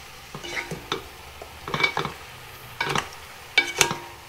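Pork being stirred in a cooking pot for pork pochero, with four separate bursts of scraping and clinking, each about half a second long, with quiet gaps between them and no talking.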